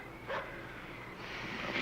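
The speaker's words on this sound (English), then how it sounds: "It's a dog barking at someone." A distant dog gives a single muffled bark near a farm, faint against a steady outdoor background hiss.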